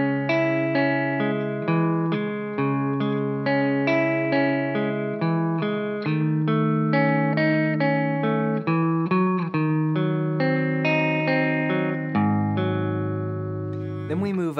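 A guitar plays the first four bars of a song, steady picked chords with a bass note and a lower sustained chord near the end, clear and close with no talking.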